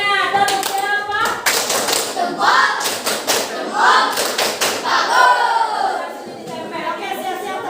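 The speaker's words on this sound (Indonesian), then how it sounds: "Kasih tepukannya. Tepuk jempol." A classroom of students does a thumb-clap cheer (tepuk jempol), with rhythmic bursts of tapping and clapping mixed with the teacher's voice and children's chatter.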